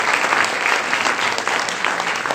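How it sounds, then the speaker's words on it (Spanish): A conference audience applauds a speaker being welcomed to the podium at a talk on self-determination, a dense, loud, even roar of clapping hands that fills the whole moment without a break. "Un aplauso para él."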